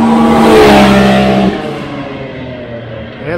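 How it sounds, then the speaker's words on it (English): A big-turbo KMS car on a new Treal exhaust accelerates hard: a loud, close engine roar climbs in pitch for about a second and a half, then eases into a lower, steady drone. "Here goes Big Dean and the big turbo, the big KMS turbo car on that new Treal exhaust."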